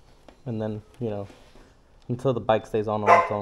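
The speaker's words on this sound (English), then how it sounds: "Please excuse my dog." A dog barks in a few loud, close bursts, the first two standing alone and the later ones overlapping someone talking, during work on a Vader 125 Grom-clone motorcycle.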